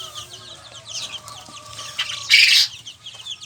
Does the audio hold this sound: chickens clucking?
yes